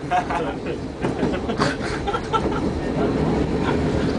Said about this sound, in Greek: Λοιπόν, ο Παναγιώτης κοιμάται μέσα στο τρένο.